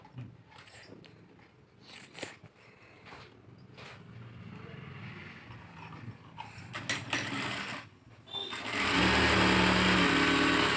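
A sewing machine stitches a blouse lining along a marked line, building from scattered handling clicks and thumps into a loud, steady close-up motor whir near the end.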